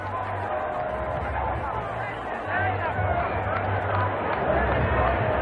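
A cricket crowd at Kingston, 1995, applauds a batsman's double century against the West Indies, a steady broad roar of clapping and cheering under a commentator's continuous talk.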